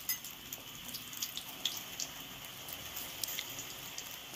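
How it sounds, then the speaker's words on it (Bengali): Cabbage pakoras fry in hot oil, a soft, steady crackle with scattered pops, faint and close, with no voices. "এবার ওই তেলের মধ্যে আমি আবার পকোড়াগুলো বাকিগুলো দিয়ে দিচ্ছি।"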